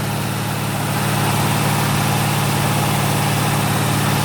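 A freshly built 350 small-block Chevy V8 with a 307 crankshaft, ZZ4 heads, air-gap intake and four-barrel carburetor idles during camshaft break-in, a steady loud low rumble with constant broadband mechanical noise throughout.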